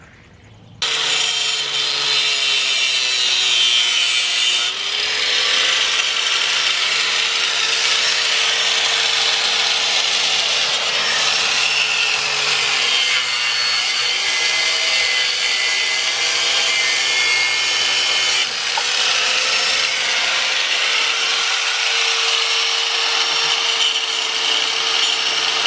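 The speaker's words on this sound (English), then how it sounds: "take a grinder and just take those off." Grinder cutting off screw tips poking through a horse trailer, a loud continuous high whine with brief dips and changes in pitch as the tool bites into metal, no talk.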